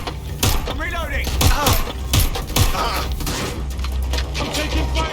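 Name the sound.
gunfire in Watch Dogs Legion video game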